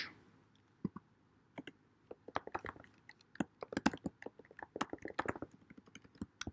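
Mouse clicks during clicking and dragging in an iOS simulator, a rapid, irregular series of sharp close clicks in clusters, fairly quiet with no talking.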